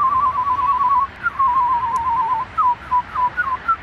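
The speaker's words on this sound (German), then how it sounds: "Ich kann anders pfeifen als das." A person whistles a wavering, warbling tune, close and clear, in short runs with brief breaks between phrases.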